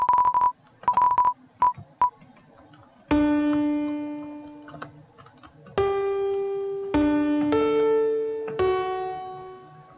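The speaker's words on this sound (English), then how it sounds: "It's the piano puzzle!" Single piano notes sound in the Undertale piano puzzle, a video game: a few short beeping tones at first, then several sustained notes struck one after another, each ringing clearly and alone at moderate loudness.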